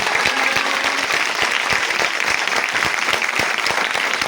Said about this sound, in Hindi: हाथों को सरों से बुलंद करके बादशाह के लिए ताली बजाइए